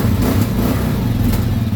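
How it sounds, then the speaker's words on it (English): A 2022 Kawasaki KLR650's single-cylinder 650cc engine just after a cold start, running at a steady, loud thumping idle close by, with no talking. "it sounds like a regular 650cc thumper, single cylinder. And that's a cold start."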